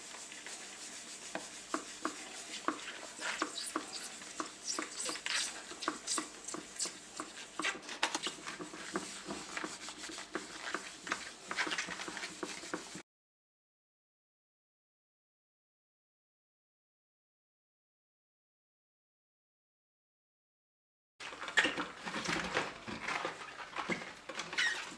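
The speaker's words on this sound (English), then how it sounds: "I'm just going to get this, and I'm just going to scrub the kettle" Rapid, steady scrubbing and rubbing inside a kettle being descaled with citric acid, close and continuous for several seconds, then a silent gap before the scrubbing resumes.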